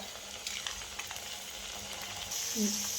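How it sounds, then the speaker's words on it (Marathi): Spinach puris deep-fry in hot oil, making a steady, close hiss of bubbling oil with occasional small crackles throughout. "अशा पद्धतीने बाकीच्या पुऱ्या पण आपल्याला तळून घ्यायच्या"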